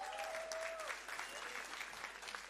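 Applause from a town hall audience in Nebraska, steady and fairly faint throughout, with a brief tonal whine near the start.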